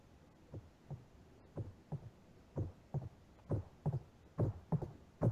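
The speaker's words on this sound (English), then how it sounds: "Oh, that's a heartbeat." A slow, steady heartbeat from the video game 999: paired thuds repeating about once a second, fairly quiet and alone, growing a little stronger toward the end.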